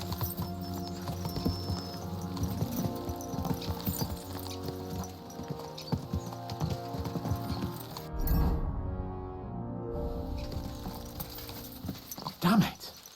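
Horses gallop in Kingdom Come Deliverance II, rhythmic hoof clops thudding under ambient game sounds, with a brief louder burst near the end.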